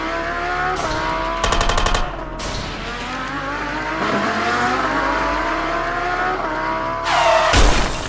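A car smashes into a gate during a film action scene: a steady engine roar under a dense soundtrack, with sharp, loud crashing bursts around the middle and again near the end.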